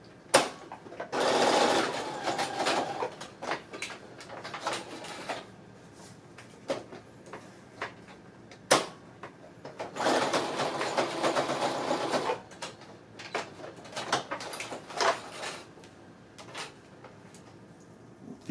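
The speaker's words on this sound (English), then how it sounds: "And now we sew the elastic together." A sewing machine stitches the two ends of an elastic waistband together in two loud bursts of steady whirring, with quieter handling clicks and bumps between and after them.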